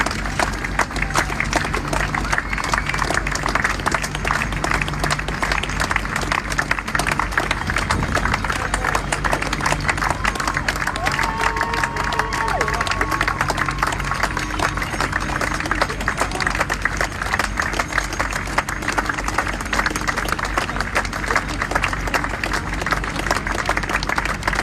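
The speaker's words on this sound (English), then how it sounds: "she can be seen clapping and cheering for herself and her fellow key worker officers" Crowd clapping and cheering outdoors on Westminster Bridge, a dense, steady wash of applause lasting throughout with scattered shouts and no clear speech.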